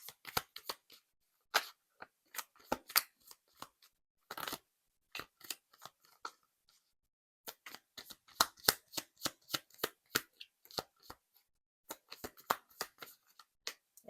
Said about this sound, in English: I usually shuffle first and then lay them out